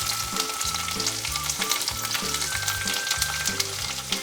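Chopped onion hits hot oil in a pan for semolina dosa, setting off a dense, continuous, close sizzle with faint stirring, no talking.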